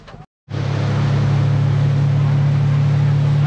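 A motorboat on Patratu lake starts after a short pause, and its engine settles into a loud, steady droning hum that carries on alone without talk.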